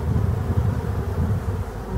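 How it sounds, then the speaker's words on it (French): Swarm of black honeybees buzzing steadily around honey extraction equipment left out for licking, a dense, continuous low drone close by with no voices. "on voit qu'il y a beaucoup d'abeilles de sortie"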